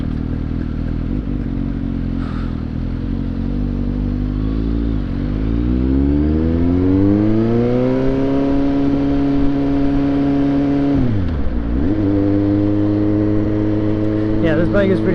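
Suzuki GSX-S750 motorcycle engine running steadily during a ride, its pitch sweeping up and down with throttle changes and a deep dip near the end, loud and close, with voices talking over it.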